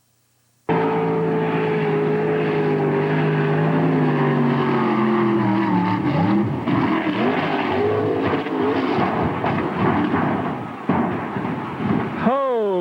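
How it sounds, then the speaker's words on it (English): A roaring motor starts abruptly, its pitch sliding down as it steadies, then churns loudly with choppy splashing and rumbling, like a powerboat running fast. "when you're simply taking a boat for a ride, nothing can go wrong"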